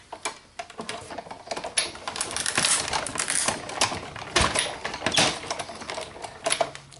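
A Big Shot die cutting machine cutting solid star shapes from paper for Christmas ornaments, giving a dense crunching, clicking mechanical rattle with repeated louder bursts that continues steadily and close for several seconds, with no talking.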